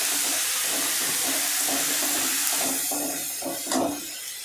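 Garlic paste hits a pan of half-fried onions for a Bengali prawn and taro dish, a loud continuous sizzle and steam hiss that fades slightly toward the end, with a few faint stirring knocks.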